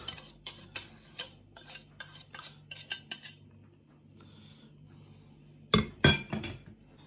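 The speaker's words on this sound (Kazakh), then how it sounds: "Енді кремімізді басқа ыдысқа түсіріп," A spoon scrapes cream out of one bowl into another dish for a quick dessert, making a run of sharp metallic clinks and scrapes against the bowl, then a pause and a final louder clatter, with no talk.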